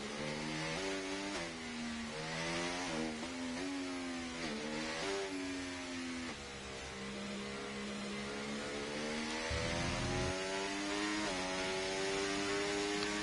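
Race car engine in an esports sim racing game at Brazil's circuit, revving up and down through gear changes then holding a steady high whine as the car accelerates back on the throttle, loud and continuous with no talk.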